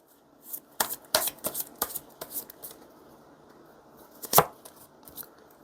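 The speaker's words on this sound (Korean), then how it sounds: "그럼 마지막으로 조언 카드 뽑아볼게요." Tarot cards shuffled and then drawn for an advice reading: a quick burst of crisp riffling slaps followed by a pause and one sharp card snap, close and clear with no voices.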